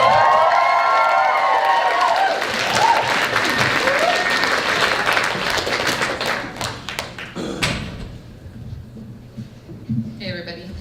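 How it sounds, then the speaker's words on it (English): Loud audience applause and cheering greet a stand-up comedian at a theater show, dense clapping that holds steady for several seconds before thinning into scattered claps and fading, with a few stray thumps near the end. "Ladies and gentlemen, please make just too much noise for Kendall Guiney."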